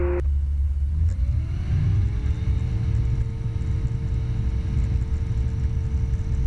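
A light aircraft engine holds a loud steady drone as the plane starts its takeoff roll at Edenvale Aerodrome, a rising tone settling into a constant hum over rumbling wheel and cabin noise.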